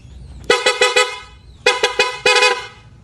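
Two clusters of sharp, bright horn toots from a Suzuki Raider 150 motorcycle with a Senlo X3 horn, each a quick series of close beeps, with a brief pause between them and no talking.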